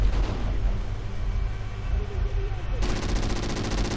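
Continuous heavy gunfire and explosive rumble in Call of Duty Ghosts, a dense roar that jumps sharply louder near the end.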